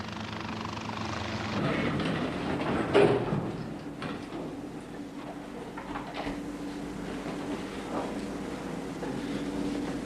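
A VIP helicopter approaches to land, its steady rotor and engine drone holding close and fairly loud throughout with a slight swell near the start.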